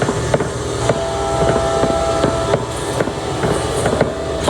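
Train rolling along its track in the video game Batman The Telltale Series, with a steady rumble and regular clickety-clack wheel beats, a faint tonal whine in the middle, and no talking.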